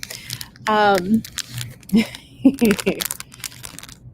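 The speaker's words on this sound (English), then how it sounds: "So they go in these plastic bag to go into yet another plastic bag." Jewelry being packed into small plastic bags that go inside a larger plastic bag during a live sale, giving soft crinkling and rustling between stretches of talk.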